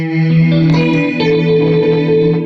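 Sustained guitar chords with a shimmering, wavering chorus effect, loud and continuous with rich harmonics and a slight warble.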